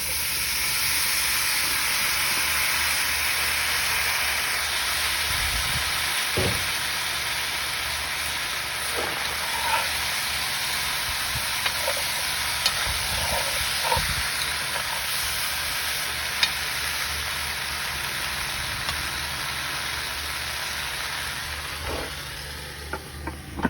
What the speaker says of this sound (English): We're going to hear some nice sizzling here.